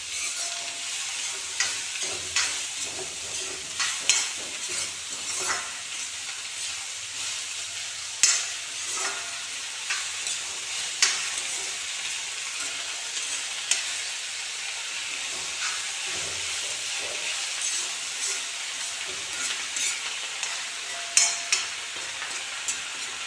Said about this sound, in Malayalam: നല്ലതിന് ഇളക്കി മിക്സ് ചെയ്യുക.